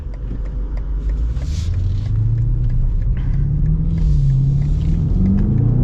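A 2025 BMW X6 M Competition engine pulls hard under acceleration, a deep steady rumble with rising tone heard from inside the cabin, loud and continuous with no talking.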